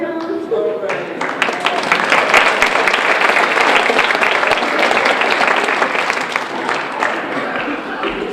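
An audience at a chemistry magic show at Adams State breaks into loud, sustained applause with whoops, the clapping rising quickly and holding for several seconds, with a voice heard at the start.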